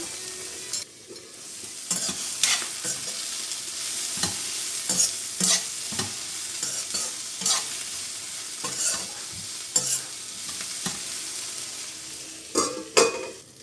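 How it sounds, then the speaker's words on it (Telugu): Coconut pieces and spices frying in a pan for a chicken pulao paste, stirred steadily with a spatula: loud scraping strokes over a constant sizzle, no voices. "ఈ విధంగా ఫ్రై అయితే సరిపోతుంది."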